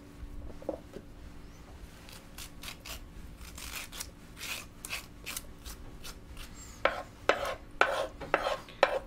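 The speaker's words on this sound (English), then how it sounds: "take a spoon and run it down the middle there," A spoon scrapes seeds from the centre of peeled English cucumbers cut in half, making soft, close, raspy strokes that grow louder and more rhythmic toward the end, with no talking.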